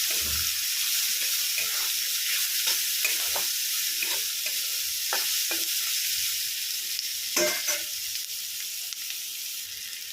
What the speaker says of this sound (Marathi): तर आपण कांदा यामध्ये परतायला टाकून घेऊया. तर ते छान असं परतून घेऊया.